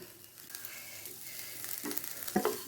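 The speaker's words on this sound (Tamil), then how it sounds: "சிம்மில் வச்சு 1 நிமிஷம் நல்லா வதக்கிக்கலாங்க" Mashed boiled potato and Maggi noodle mixture sautés in a pan over low heat, with a soft steady sizzle and a few louder spatula scrapes and clicks toward the end.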